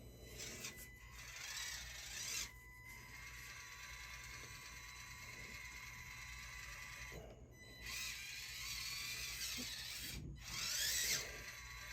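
Small-scale RC crawler truck on tiny JConcepts Ruptures tires climbing a patio paver stone, its motor and gears giving a steady, faint mechanical whir and ratcheting whine that swells briefly a few times as throttle increases.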